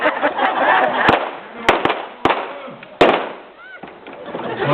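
Several sharp gunshots crack out at irregular intervals during a staged Wild West show in an outdoor ghost town, loud and close over a noisy background of crowd and people talking.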